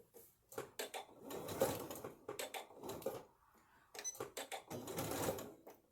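A sewing machine stitching a garment shoulder seam in several bursts of rapid mechanical whirring and clatter, with short pauses between runs.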